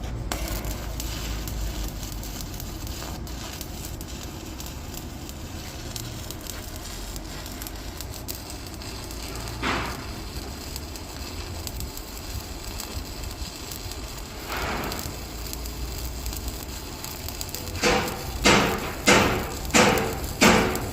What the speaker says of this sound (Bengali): এই যে ওয়েল্ডিং মারতেছি, আপনারা একটু দেখেন।